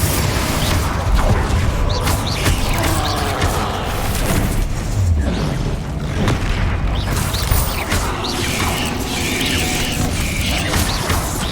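Repeated Confringo blasting-spell explosions in Hogwarts Legacy during a fight with a troll, a dense, loud, continuous wash of booms and crashes with no pauses.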